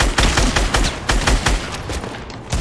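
Rapid bursts of automatic gunfire from a Fortnite match, a dense string of sharp cracks with short gaps, some shots close and loud, others trailing off toward the end, with no talking.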